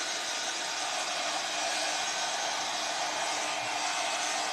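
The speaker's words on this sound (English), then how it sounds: "I'm using the heat gun" A heat gun drying foil adhesive on a bottle blows a steady, even hiss of hot air throughout, constant and moderately quiet with no talk over it.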